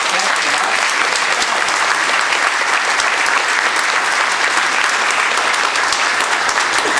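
Steady, loud applause from an audience at a political speech, greeting lawmakers in the room, dense and continuous throughout with no break.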